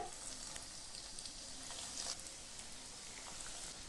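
Egg devils sizzling in frying oil, a soft continuous hiss with occasional small crackles and spits, fairly faint and even throughout, no speech.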